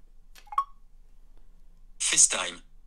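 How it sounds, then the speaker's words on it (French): An iPhone X with VoiceOver gives two small pop sounds during the home gesture, a pair of quick, faint blips close together, followed by a burst of speech. "On part du bas, on monte le doigt jusqu'à entendre deux petits pocs, poc, poc, et on lâche."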